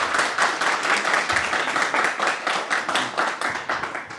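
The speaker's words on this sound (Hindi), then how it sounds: "तो मैं शुरुआत तभी करूँगा जब सबकी तालियां एक साथ बजेंगी।" A crowd at a birthday celebration gathering claps together, producing steady, dense applause with a rhythmic pulse that continues for several seconds.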